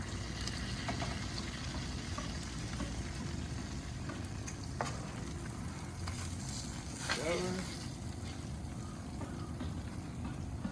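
Steaks sear on a Blazing Bull Schwank infrared grill with a steady, dense sizzle that keeps going the whole time, close and fairly loud, with a few soft pops and faint background murmur.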